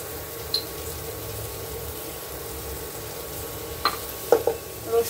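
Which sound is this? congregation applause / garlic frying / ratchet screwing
garlic frying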